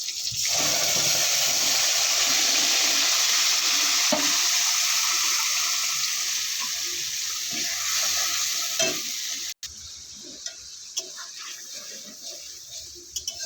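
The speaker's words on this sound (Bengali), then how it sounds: "এবার আমি মশলাগুলো তেলে দিয়ে দেবো।" Ground spices, including radhuni, coriander and green chilli paste, hit hot oil in a pan with a loud, steady hiss that gradually softens, with a few light scrapes and clicks near the end.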